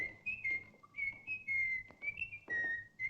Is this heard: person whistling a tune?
yes